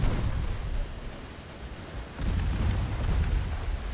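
Naval gunfire in the warship game Ultimate Admiral Dreadnoughts, heavy rumbling booms and a continuous low roar of battle, a louder surge of firing in the second half, no voices.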